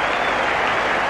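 At a 1992 World Cup cricket match against Australia, South African supporters in the crowd applaud a batsman's fifty, producing dense, steady clapping with no voices above it.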